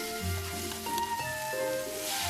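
Sliced onion and paprika stir-frying in a pan with a spoonful of water, giving a steady close sizzle that runs evenly through the short stretch, with no talking.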